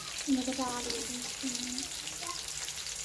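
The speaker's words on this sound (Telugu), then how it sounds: "పచ్చిమిరపకాయ నూనెలు వేసుకున్నాం ఇప్పుడు ఆలు వేసుకున్నాం ఫ్రై అవుతుంది" Potatoes and green chillies frying in oil for a vegetable curry, giving a continuous close sizzle. A brief humming, voice-like tone rises over it early on.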